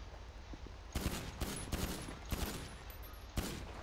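Video-game gunfire from a bank robbery fills several seconds with rapid bursts of shots, a few separate volleys over a steady noisy background.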